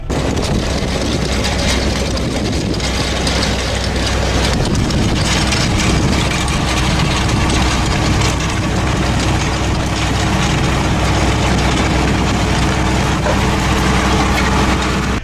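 A tractor pulls a disc harrow across a field being worked for wheat or rape, a steady, loud, heavy engine drone with broadband rattling from the implement throughout, no voices.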